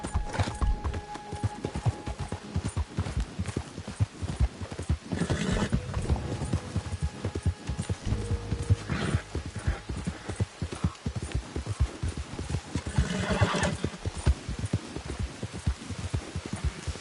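A horse trots with steady, rapid hoof clops repeating close and loud for the whole stretch, joined by occasional snorts and whinnies and a faint background hum.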